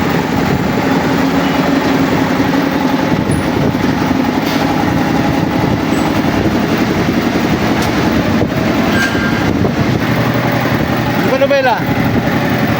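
A road roller's engine idles at a pier, a steady, loud mechanical drone that runs the whole time, with a brief voice near the end.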